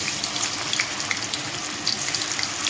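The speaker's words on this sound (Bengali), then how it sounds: "তেলটা গরম হয়ে গেছে তো এখানে করলা ব্যাটার লাগানো একে একে করলা আমি এভাবে ব্যাটারে লাগিয়ে লাগিয়ে দিয়ে দিবি" Battered bitter gourd slices fry in hot oil with a dense, continuous crackling sizzle, close and fairly loud, with no voices.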